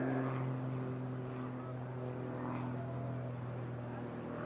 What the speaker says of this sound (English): Tutor is capable of sustained inverted flight, which DJ will now demonstrate on this inverted pass